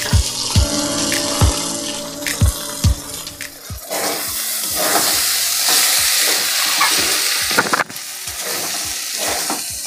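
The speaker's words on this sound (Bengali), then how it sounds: "এবার ধুয়ে রাখা ডালগুলো দিয়ে দেবো" Washed lentils tipped into a pan of rice frying with spices for khichuri, giving a spell of clattering and stirring over a steady sizzle, with sharp scrapes and knocks recurring through the clip.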